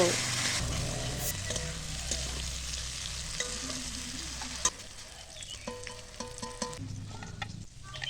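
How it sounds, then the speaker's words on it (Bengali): Yardlong beans frying in hot mustard oil with salt and turmeric in a kadai, a steady close sizzle with stirring scrapes and clinks, loud at first and easing slightly later. "বরবটিগুলো লবণ হলুদ দিয়ে হালকা করে ভাজি তুলব"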